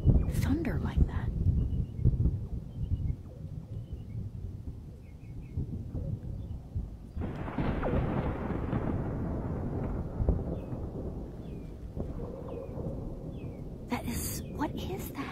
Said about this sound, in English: I have never heard thunder like that